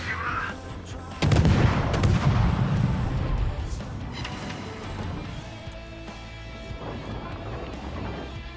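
Heavy naval guns from the Japanese destroyer Asashio open fire in a World of Warships battle, one loud booming blast followed by a long rumbling tail, with weaker reports and battle noise continuing under a faint voice.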